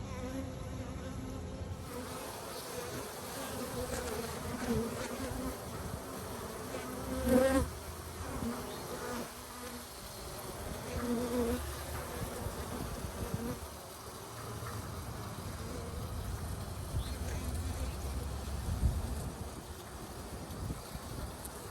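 Honeybees in a small nucleus hive buzz in a dense, steady drone close to the microphone, individual bees flaring louder as they pass nearby, with no talking.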